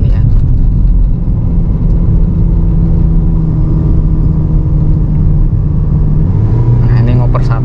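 A second-generation Toyota Vios climbs a steep mountain incline on the Cangar road near Batu in second gear, its engine a loud, steady low drone inside the cabin, with someone talking briefly near the end.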